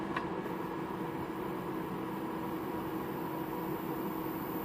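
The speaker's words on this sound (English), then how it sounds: "you hear a buzzing sound, which increases a little bit the higher the ozone level setting goes." A 1KNT ozone generator gives off a steady, faint electrical buzz as its output knob is turned up, an even, continuous hum with a faint hiss and no pauses.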